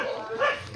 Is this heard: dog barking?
yes